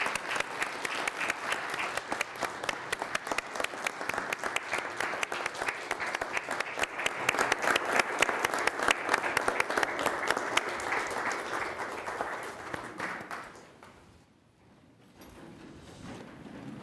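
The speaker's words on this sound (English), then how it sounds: "let's give him a round of applause" Sustained audience applause at a city water utilities trust board meeting, dense steady clapping for about thirteen seconds that fades out, followed by a quiet room.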